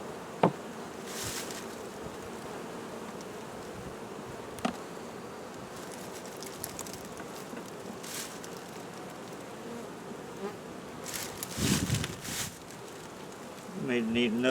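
Honeybees at a South Carolina hive form a dense, steady buzzing drone throughout, with a few knocks and clicks from hive work and a beekeeper speaking briefly near the end.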